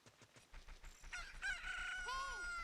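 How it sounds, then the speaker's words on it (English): A rooster crows in Ocarina of Time: a loud, drawn-out cock-a-doodle-doo rises after a second of quieter game sounds, with a steady low hum beneath. "Cock-a-doodle-doo!"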